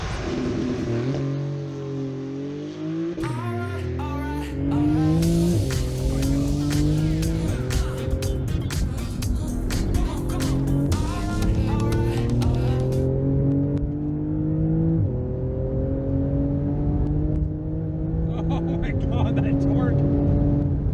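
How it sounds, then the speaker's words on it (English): A Porsche 911 GT2 twin-turbo engine accelerates hard and close, its loud note climbing in pitch and dropping back as it shifts through several gears. "the turbochargers are cramming air into the combustion chambers at high pressure, and that ruins the voice a little"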